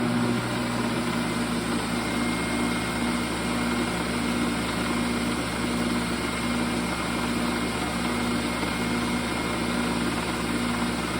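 Brushless motor spinning at high RPM, a steady continuous hum and whine with stable tones held throughout, no talk.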